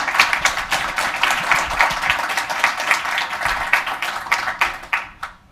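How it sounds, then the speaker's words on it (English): An audience at a tech conference talk on Apollo Client and GraphQL applauds steadily for the speaker, a dense, even wash of clapping that lasts several seconds before fading out at the end. "a round of applause for Jonas"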